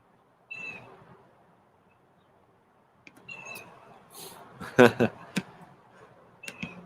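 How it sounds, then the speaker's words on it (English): Birds call in short bursts in a backyard beside a patio, with a few sharp chirps standing out near the middle and end among quieter stretches of soft ambience. "I think the birds are arguing over which part of the yard is theirs and which is mine"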